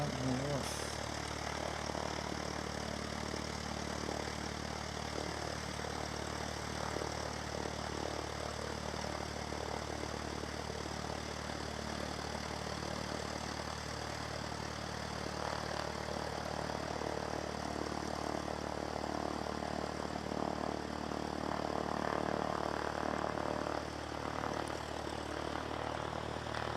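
A propeller aircraft comes in to land at the Canterbury Aero Club, its engine a steady, faint drone with a low hum that holds evenly for the whole stretch, distant and unbroken.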